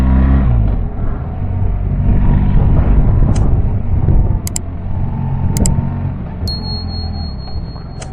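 BMW R1300GS motorcycle engine while riding, a steady loud mid-range drone with wind rumble that holds nearly constant throughout, with faint ticks near the end.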